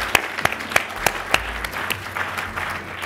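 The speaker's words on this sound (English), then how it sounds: "Round of applause for the contestant." Applause for a startup contestant at a tech conference idol event, with a few sharp, distinct claps standing out over a soft crowd clatter, fairly close and moderate in volume.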